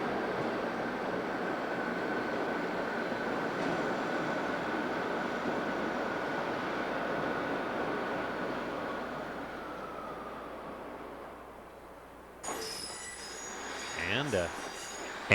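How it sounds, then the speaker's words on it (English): A Class 158 diesel multiple unit train rumbles past with a steady rolling roar and wheel noise that fades away, followed by a brief different sound at the end. "Here's a Class 158 DMU, one of the, at this time, probably the newest class of diesel multiple units"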